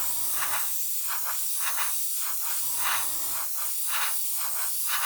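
A clear coat is sprayed wet on wet onto a model in repeated short hissing bursts, with a steady airbrush hiss between passes and no talking.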